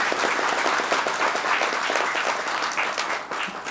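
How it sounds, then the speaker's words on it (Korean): An indoor audience at a scholarship and award ceremony gives a sustained round of dense, loud applause that holds steady throughout. "여러분, 우리 후원 회장님께 다시 한번 큰 박수를 부탁드리겠습니다."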